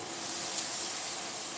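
Food sizzles in a hot sauté pot, a steady bright hissing crackle heard up close, with no voices.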